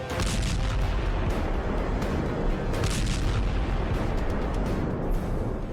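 Continuous heavy rumbling blasts, several deep booms rolling into one another, loud and dense throughout like explosions; missiles striking tanks in the Russia-Ukraine war.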